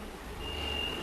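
A steady electronic alarm beep tone rings out during a church sermon, a thin continuous high pitch held for about half a second over low room rumble and background noise.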